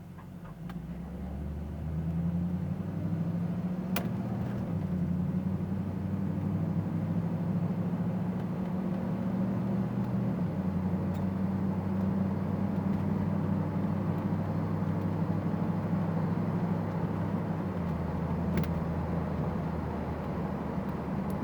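A white 1999 Pontiac Trans Am 30th Anniversary edition pulls away from a stop, its engine holding a steady, loud low rumble that builds slightly as the car rolls off, with no talk over it.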